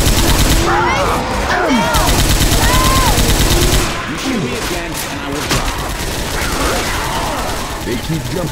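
Gunfire in the Left 4 Dead 2 zombie game comes as loud, continuous rapid bursts that dominate the mix, with game voices and chaotic effects layered over it.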